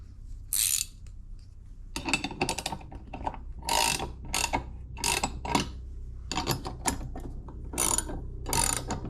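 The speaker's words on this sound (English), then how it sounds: "I don't need to tighten these down super tight, but for science, I'm just gonna" A hand ratchet tightens nuts on a Champion 7-ton gas log splitter, with bursts of rapid metallic clicking repeated in about seven runs, close and distinct against a quiet background.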